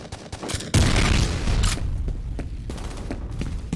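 A grenade detonates in the video game F.E.A.R., a sudden loud blast that erupts after a brief stretch of gunfire, followed by a rumbling tail mixed with scattered shots and combat noise.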